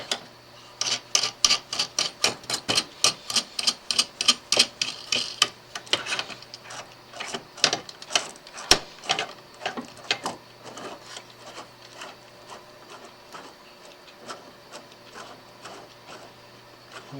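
A homemade clock spring winder's ratchet clicks rapidly and loudly at first in a quick regular train, then slows and thins into fainter, scattered ticks, close with no talk.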